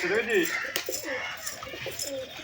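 Giribaj pigeons, a Bengali flying breed, coo in soft, rolling warbles up close, with a voice talking partly over them.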